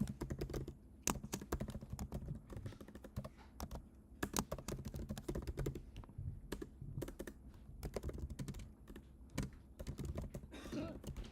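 Steady computer keyboard typing while writing code for a LeetCode breadth-first search problem, a dense run of close, crisp key clicks with brief pauses, heard on its own with no talking.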